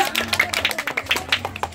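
Children at a birthday party clap in a quick uneven patter of sharp individual claps, close and fairly loud, lasting under two seconds.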